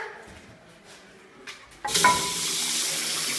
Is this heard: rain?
no